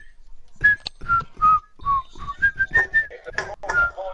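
A person whistles a wavering tune of short, close notes with breathy gaps, loud and clear over soft background noise during an online football game session.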